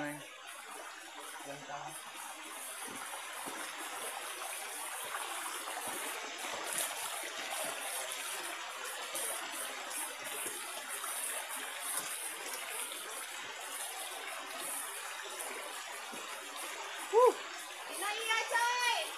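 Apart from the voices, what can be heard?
river stream flowing while hikers cross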